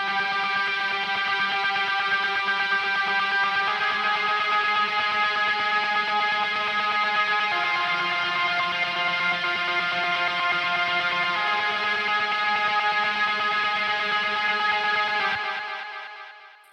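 An electric guitar plays a lead tone through the high-gain amp and cab of the Neural DSP Archetype Gojira plugin, with simple delay. Long, bright, saturated sustained notes change pitch a few times, then the sound fades out near the end.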